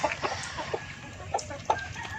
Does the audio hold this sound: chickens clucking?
yes